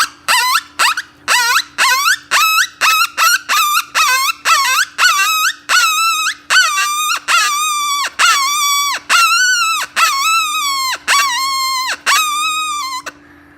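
A mouth call imitates an injured coyote's distress cry in a long run of loud, close, rhythmic yelping wails that start short and quick and stretch longer as they go.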